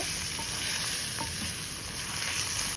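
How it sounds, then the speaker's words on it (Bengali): Spices and chopped tomato fry and get stirred in a pan for a tuna curry, giving a steady close sizzle with faint scraping stirs throughout. "তারপর একটু টমেটো কুচি দিয়ে আমি এটাকে আবার ভালোভাবে কষিয়ে নেব।"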